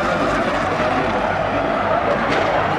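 Formula E racing car carrying too much speed into a corner and skidding during a lunge, a continuous loud whine and scrub of tyres sustained for several seconds with no talk.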